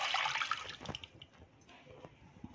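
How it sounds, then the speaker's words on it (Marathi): Water sloshes and trickles as a ball of homemade butter is rinsed by hand in a bowl, starting with a brief splash and fading into quiet drips and soft swishes. "तर मी अजून एका पाण्याने लोणी धुवून घेणार आहे।"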